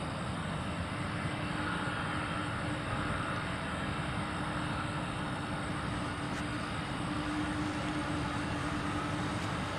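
A UPS freighter aircraft near a runway entry point at Louisville airport gives off a steady, broad engine roar that holds evenly throughout, with no voices.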